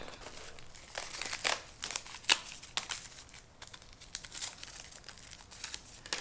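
Syringes are unwrapped from crinkly plastic packaging, close up, with repeated crumpling, crackling and tearing bursts in an irregular rhythm and no speech.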